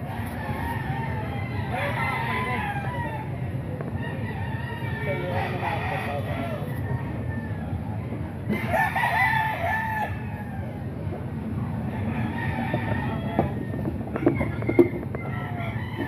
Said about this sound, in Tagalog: Dami manok ni Boss Albert mga kaidol.